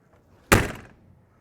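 A metal-latched slam door on a 2022 Cedar Creek 38EBS fifth-wheel RV shuts with one sharp, loud thunk that rings briefly and fades, with quiet before and after.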